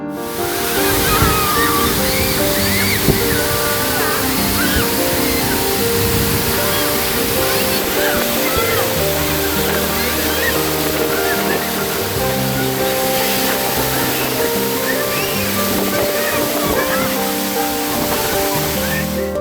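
Gandahati Waterfalls roars continuously and loudly, a dense unbroken rush of falling water with a low rumbling undertone throughout.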